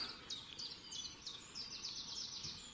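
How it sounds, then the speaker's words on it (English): Small birds chirp in quick repeated bursts in a spring garden at Stogumber, light twittering phrases a little distant over a faint steady outdoor hum. "Birds are singing."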